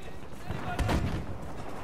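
Anti-tank shell fired in a video game lands as a single heavy blast partway through, set against a dense bed of background game noise.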